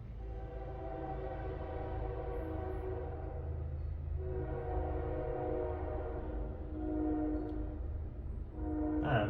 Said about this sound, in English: Let's let the train go by.